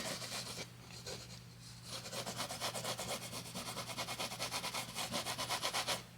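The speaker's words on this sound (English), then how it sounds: "I'm just rubbing this in" Paint brush rubbing dark oil paint into canvas in Bob Ross style, a fast rhythmic scrubbing swish repeating steadily back and forth, close and continuous with no talking.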